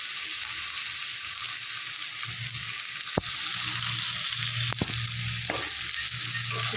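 Shapla (water lily) curry sizzles steadily in a hot pan with sugar just added, broken by a few sharp clinks of a spoon stirring against the pan's side; no one speaks.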